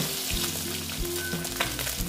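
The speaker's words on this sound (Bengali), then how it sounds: "দেখো বন্ধুরা মাছটা ভাজা হয়ে গেছে" Bata fish frying in a pan of oil, a steady close sizzle with a low hum and faint tonal whine running underneath for the whole stretch.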